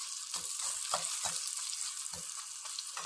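Yogurt curry (thair curry) with turmeric being stirred in a frying pan, a steady sizzle of frying under repeated scraping strokes of a spoon, close and alone with no talk.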